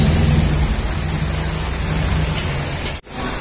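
Steady rain pours down in a dense, even hiss, with a brief dip near the end before the downpour resumes.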